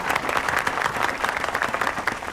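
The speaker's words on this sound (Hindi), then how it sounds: "तालियां!" A crowd at a street rally bursts into sustained applause, a thick, even wash of clapping that fills the whole stretch without letup.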